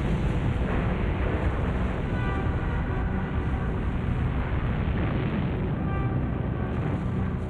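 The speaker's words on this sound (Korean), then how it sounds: "마침내 폭발합니다." Volcanic eruption at Mount Vesuvius, a loud continuous roar and rumble filling the low end without letup, dense and unbroken throughout.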